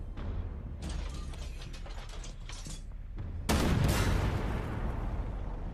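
A tank gun fires in the video game Armored Warfare, a heavy sudden blast against a constant mechanical engine rumble and clanking, loud and close.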